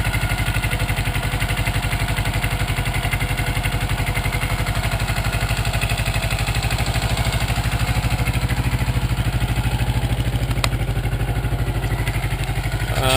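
A 1984 Yamaha Maxim 400 motorcycle idles close by at around 1350 to 1400 RPM, a steady even putter with fast regular pulses and faint clatter throughout.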